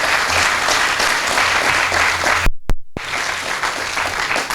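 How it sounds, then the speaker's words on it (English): Audience applause at a grant award ceremony at a regional transportation center, sustained dense clapping from a crowd with a brief abrupt dropout midway before resuming steadily. "Let's give them a round of applause."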